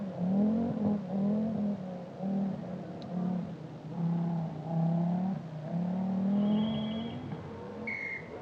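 A private Audi rally car in the 1985 Lombard RAC Rally drives a slippery forest stage, its engine revving and droning loudly and close, rising and falling through gear changes without a break.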